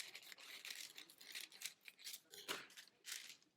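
Scissors snip through folded parchment paper to cut out a circle for lining a cake pan, with a quick run of crisp, close cuts and light paper rustling.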